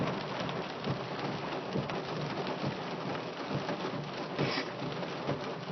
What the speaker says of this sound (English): I mean, the thunder is just pounding.